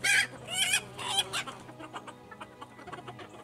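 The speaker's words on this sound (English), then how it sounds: "Too many roosters." Eight to ten roosters crowing loudly up close, then a run of quieter clucking and short calls from several birds.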